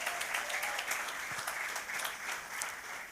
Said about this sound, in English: He should stand up for a special round of applause.